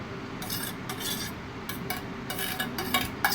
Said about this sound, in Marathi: आता याच्यामध्ये काकडीमध्ये आपल्या गाजर टाकून घ्या, मिक्स करून भाज्या आपल्या सगळ्या.